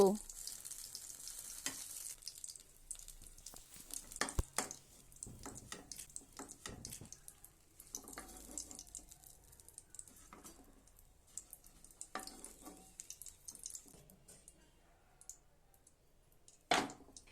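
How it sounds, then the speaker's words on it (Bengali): Eggplant slices fry in hot oil with a steady sizzle throughout, broken by clicks and scrapes of a utensil turning them in the pan, and a brief splash of water; no one speaks. "এইভাবে বেগুনের 2 পিঠ ভাজা হলে বেগুনগুলিকে তুলে নেব।"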